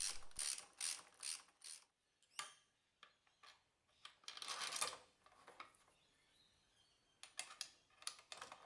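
A ratchet clicks in quick bursts as the handlebar bolts on a Honda NC750X motorcycle are tightened. Faint, close metallic clicking comes in irregular runs with short pauses between them.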